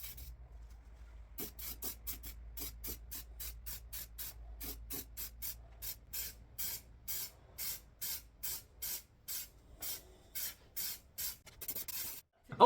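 Primer is sprayed onto an Austin A30 car body in a long run of short, regular aerosol bursts with brief pauses between them, close and clear, after a quieter start, with no talking.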